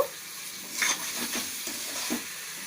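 Chicken korma with cashew paste and slit green chillies frying in a pan, a steady close sizzle with a few stirring scrapes, no talking.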